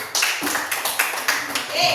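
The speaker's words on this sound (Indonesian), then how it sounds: "Tepuk tangan." Children in a classroom clap together in quick, rhythmic bursts, several sharp group claps in a row, loud and close, with voices mixed in.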